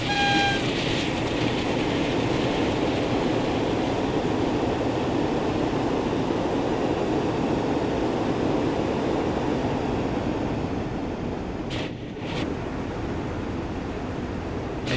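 A British Rail Class 52 Western diesel locomotive in a train simulator game, its engine over-revving as a steady, loud, broadband drone that holds for the whole stretch with only a brief dip near the end.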